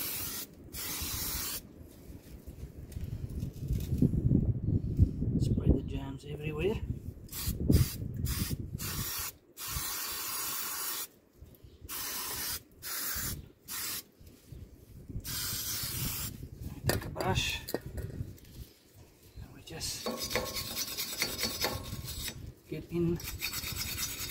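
Bursts of aerosol brake/pipe cleaner sprayed onto Toyota Fortuner/Hilux D4D front brake parts, several hissing sprays of varying length separated by short pauses, close and fairly loud with no talk.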